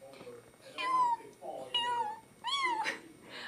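A person's voice imitates a cat, giving three drawn-out meows with pauses between them.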